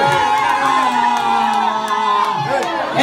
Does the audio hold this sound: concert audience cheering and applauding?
yes